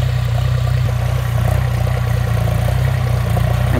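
An ISEKI 35 tractor engine runs while ploughing, a loud, steady low diesel throb with rhythmic pulsing and light clatter, close by and without any talking.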